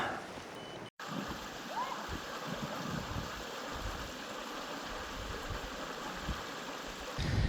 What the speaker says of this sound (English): I'm going to watch the waterfall.